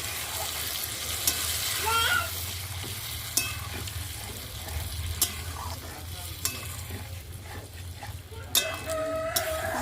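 Beef pieces for bhuna frying in a pan, a steady close sizzle with stirring scrapes and occasional clinks running throughout.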